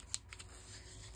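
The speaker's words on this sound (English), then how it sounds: "Scissors." Scissors snip once crisply, then lighter cutting sounds follow while craft lengths are trimmed for a shabby chic journal, close and quiet.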